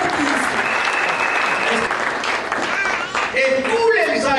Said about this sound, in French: Batemos as palmas pela glória de Deus.